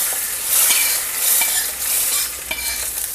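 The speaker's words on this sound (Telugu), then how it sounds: "వేడి వేడి పోపుని ఇందులోకి మార్చేసుకుందాం." Hot oil tempering sizzles loudly as it is poured into boiling rasam, a steady bright crackle with small pops and no voices.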